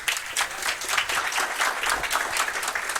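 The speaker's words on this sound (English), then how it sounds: "please give a big round of applause to Michael Eckhardt" An audience at a business talk gives a speaker a hearty round of applause, with close, fluttering claps that swell and ebb without a break.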